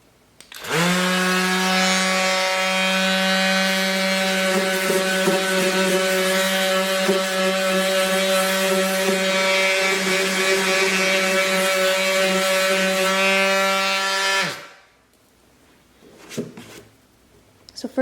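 A rotary power sander with 100-grit sandpaper grinds on a plastic dog kennel, a loud steady whine holding for about fourteen seconds before cutting off into quieter handling noise.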